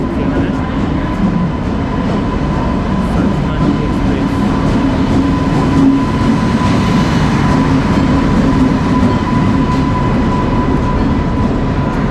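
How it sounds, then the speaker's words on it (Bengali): A Rajdhani Express train, Kolkata to New Delhi, stands at a station platform with a loud, constant low rumble and hum close by, while faint voices murmur in the background. "আর তার ঠিক সামনেই এই যে ট্রেন"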